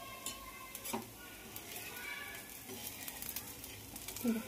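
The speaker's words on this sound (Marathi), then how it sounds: "त्या मिरच्या बनवायच्या, तळून काढायच्या त्या, ते मीठ टाकून तव्यावरती तळायच्या" Quiet sizzling of salted green chillies frying on a hot griddle, with light scraping and clinking of a utensil stirring now and then.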